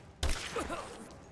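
Suppressing gunfire in a first-person shooter: a sudden sharp burst of shots followed by a fainter scattered volley with some game effects, fairly quiet overall.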